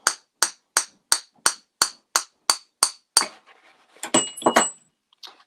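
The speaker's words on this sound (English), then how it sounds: "We're going to take our hammer, and we're just going to" Hammer taps punching out the end of a wooden pen blank: nine crisp, evenly spaced strikes, then a few scattered clinks and rattles of small metal parts, close and clear without talk.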